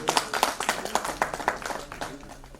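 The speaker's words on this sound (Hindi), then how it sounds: "एक बार जोरदार तालियां" An audience claps at the Tiranga award ceremony at Sahkarita Bhawan in Lucknow, with a quick run of sharp hand claps that fades out over a couple of seconds while a voice speaks partly over it.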